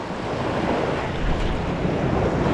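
Rough, strong ocean waves around a fishing boat, a steady loud roar of water and wind buffeting the microphone that swells slightly toward the end.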